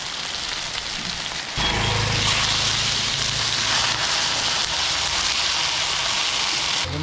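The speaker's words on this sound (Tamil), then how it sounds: "இங்கே வந்த உடனே சரியான மழை." Heavy rain falls at Krishnagiri KRP Dam in a dense, steady hiss, close and loud. It swells noticeably partway through and then holds at full strength, with no voices.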